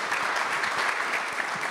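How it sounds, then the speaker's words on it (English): Dense applause from an esports panel audience, a steady roar of many hands clapping together, fairly close and even in loudness throughout. "I want to give a great round of applause for our amazing panelists"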